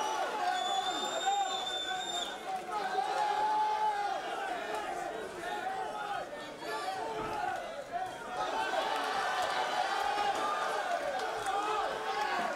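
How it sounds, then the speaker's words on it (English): A packed crowd at a charity boxing match keeps up steady, noisy cheering and chatter throughout, with an announcer's voice carrying over the din. "Cheer on your boys, red and blue. Cheer them on."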